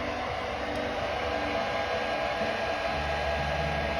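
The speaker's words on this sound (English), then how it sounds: "I did steal my wife's hair dryer." Hair dryer blowing to dry paint on a 3D-printed portrait, a steady, close whooshing airflow with a low motor hum that runs unbroken throughout.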